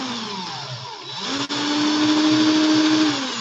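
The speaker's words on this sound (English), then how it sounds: "I'm holding the drill with my dominant hand" A handheld power drill spins to twist fine-gauge coil wire into helix and clapton coils. Its motor whines down, cuts out briefly, then spins back up to a steady, close, high hum before slowing at the end.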